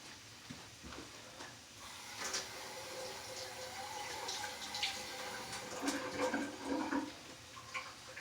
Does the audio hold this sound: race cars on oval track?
no